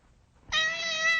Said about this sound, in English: Hey, get that cat out of here.